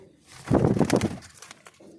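A pigeon coos close by, one throaty, rolling burst in the middle with quiet surroundings before and after.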